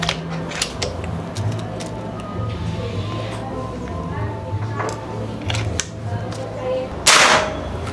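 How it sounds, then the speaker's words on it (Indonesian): A single sharp shot from a Predator OD 38 V1 PCP air rifle cracks loudly near the end, after scattered mechanical clicks and creaks over a steady low background hum. "Lanjut untuk tembakan terakhir."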